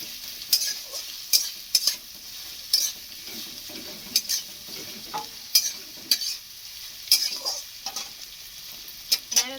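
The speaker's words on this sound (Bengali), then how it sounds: "পেঁয়াজটা লাল লাল করে ভাজা হয়ে গেছে" Chopped onions fry in a pan while a spoon stirs them in regular, clacking strokes against the metal, each scrape rising over a soft continuous sizzle; no talking.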